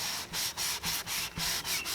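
Rhythmic back-and-forth scrubbing of a rough sanding sponge with soapy water on an old chair, about eight quick even strokes, close and steady.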